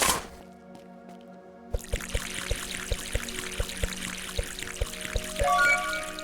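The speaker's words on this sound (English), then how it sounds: "And in order for it to count, I need to water them." Crops being watered in the farming game Common'Hood: a steady pour of liquid with a regular series of small ticking drips over a low background hum, ending in a louder splash.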